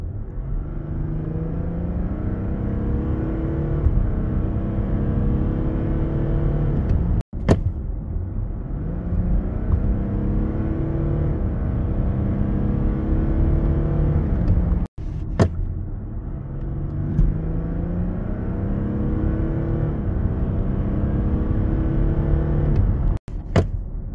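An Audi Q8 3.0 V6 TDI quattro diesel pulls under hard throttle in sport mode, a loud, steady cabin drone of engine and road rumble rising in pitch across repeated gear pulls, briefly dipping at each shift.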